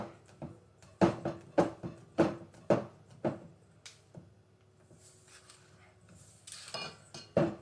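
Apple and walnut pie filling stirred in a bowl, the utensil knocking and clinking against the bowl in about half a dozen steady, close strokes, followed by quieter scraping and shuffling with no talk.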